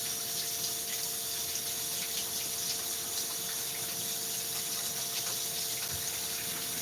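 Water runs steadily from a kitchen tap as a spatula is rinsed under it, a continuous even gush with faint clinks, no talking.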